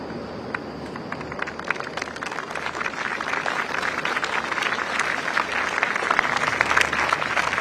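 Steady crowd applause on the Istana grounds as incoming Singapore Prime Minister Lawrence Wong arrives with his wife, a dense continuous clapping that holds through the clip with no talk over it.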